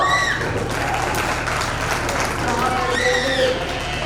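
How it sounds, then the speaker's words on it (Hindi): Steady audience clapping during a Hindi stage play, a continuous crowd patter with tonal voice or music traces riding over it. "ताली बजाओ।"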